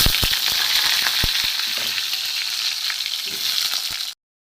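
Steady close sizzle of pointed gourd frying in hot oil with bay leaf and five-spice seeds for a vegetarian curry, with scattered pops and crackles, then an abrupt stop.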